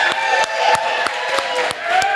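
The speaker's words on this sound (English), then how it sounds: "Let's give her a round of applause." Small gathering clapping and cheering for a host inside a showroom in Sunnyside, Houston, Texas, with evenly spaced sharp claps over a continuous crowd murmur and voices.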